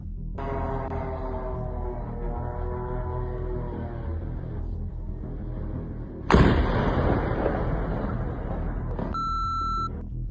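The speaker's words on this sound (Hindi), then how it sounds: "हमले में जोरदार धमाका हुआ।" A sudden loud explosion from an attack on a Russian factory bursts out with a long, roaring rumble, preceded by steady background noise and followed by electronic beeps.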